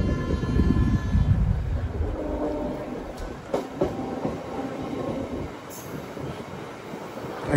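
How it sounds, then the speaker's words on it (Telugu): The Prasanthi Express rolls past on the neighbouring track, a loud, sustained rumble of wheels and carriages that fades and wavers over several seconds, with a brief sharp rattle partway through. "అటు సైడ్ ఏదో ట్రైన్ వెళ్ళిపోతుంది."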